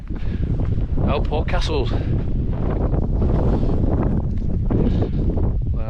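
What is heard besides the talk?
wind blowing on a hilltop hike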